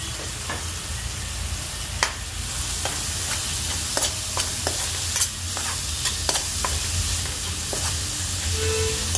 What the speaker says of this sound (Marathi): कांदा ब्राऊन करून घ्यायचा आहे मस्त छान